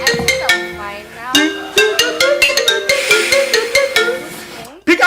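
A phone ringtone plays as a bright, melodic run of repeated chiming tones, loud and continuous for several seconds with a brief cutoff near the end before resuming.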